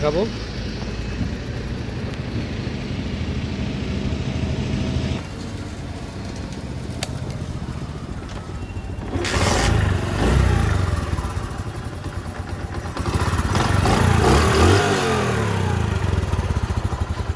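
A Honda CD 80 motorcycle engine runs close by with a steady putter, revving up twice in surges while someone talks over it.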